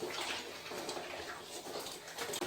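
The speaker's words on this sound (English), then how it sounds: "now let's agitate it again. We want to wash it until our soap suds start to go away" A zentai suit is sloshed and agitated in a tub of soapy wash water, a steady close-up swishing and splashing that continues without pause.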